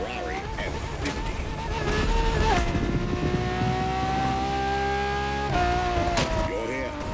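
A Ferrari F50 sports car engine holds steady tones and climbs in pitch as it revs, loud and close, with a spoken voice running over the engine noise.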